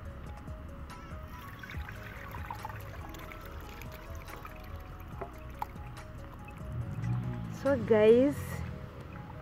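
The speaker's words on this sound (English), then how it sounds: "We are going to sieve from here." A cooled avocado seed hair treatment mixture, slimy and oily, is poured and strained through a sieve, giving drips and trickles that grow into a louder liquid pour near the end while a person talks.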